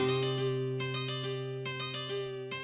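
A sustained, slightly buzzy guitar tone through a lo-fi vinyl plugin plays a slow melody with repeated plucked notes, warm and muffled with a steady hiss underneath, no voices.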